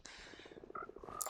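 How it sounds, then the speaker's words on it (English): Frogs croak in a quick, steady pulsing run in the Eternals Rebirth video game, fairly faint and close, with a brief higher chirp near the end and no talk. "so these frogs are just kind of here now"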